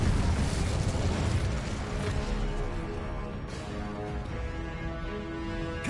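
An Incendio fire spell cast in Hogwarts Legacy, a loud rushing burst of flame that roars at once and then fades to a rumbling, crackling hiss with a few pops, no talking.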